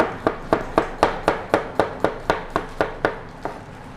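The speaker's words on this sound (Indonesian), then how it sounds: "Kita potong bawang putih." A knife chops garlic on a cutting board in about a dozen crisp, evenly spaced strikes, steady and close, with no talking.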